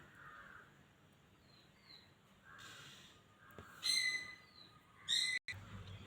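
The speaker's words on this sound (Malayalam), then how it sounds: "ഞങ്ങൾക്കൊരു തത്തയുണ്ട്, അതാണ് ഈ കിടന്ന് കരയുന്നത്." A pet parrot at home gives two loud, harsh squawking calls toward the end, each short and piercing, over a quiet indoor background.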